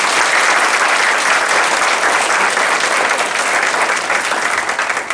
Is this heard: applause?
yes